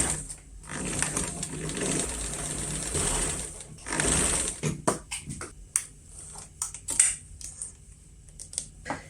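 A sewing machine stitches a facing onto a garment's fabric, running in a dense continuous mechanical whir for several seconds, then giving way to scattered clicks and handling taps, close and with no talking.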